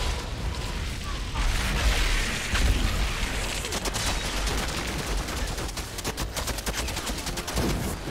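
Rapid gunfire from a freezing weapon in the Outriders video game, a dense continuous barrage of shots and impacts over game effects, with voices talking throughout.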